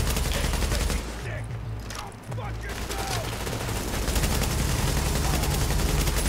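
Gunfire in Tom Clancy's The Division, sustained rapid bursts from several weapons trading shots, loud and continuous with a brief lull, voices talking over it.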